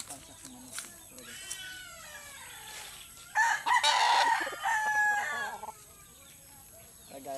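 A pet rooster of about ten months crows loudly and close, one long strained cock-a-doodle-doo in the middle of the clip, with softer chicken calls and clucks before and after over a quiet background.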